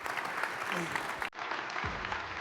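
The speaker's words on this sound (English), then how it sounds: "Give them a round of applause." Audience giving a round of applause at an XRPL event session, a moderately distant wash of clapping with voices mixed in, cut off abruptly midway before resuming more muffled.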